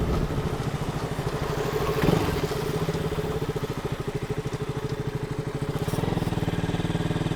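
Close KTM RC 200 motorcycle engine running with a rapid, steady putter, briefly revving and then settling back into a rhythmic idle.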